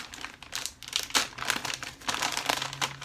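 A plastic fittings bag from a Landcruiser LC200 fuel filter kit crinkles and rustles close by as it is opened, with steady crackling and a few sharper bursts throughout.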